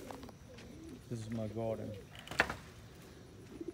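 Young pigeons or doves cooing in a home garden, a few soft low coos close by, with a person speaking briefly alongside.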